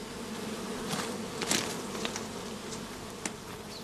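A shook swarm of honey bees, about 2.5 pounds, held in a swarm box with wire gauze sides, drones in a steady dense buzz with a few louder passes of single bees close by.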